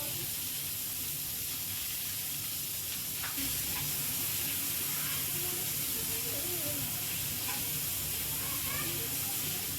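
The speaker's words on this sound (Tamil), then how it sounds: "கடுகு, ஒரு பெரிய வெங்காயம் குட்டி குட்டியாக சாப் பண்ணி சேர்த்துக்கிறேன்." Mustard seeds and finely chopped large onion fry in a little oil, giving a steady, close sizzle with faint crackles throughout.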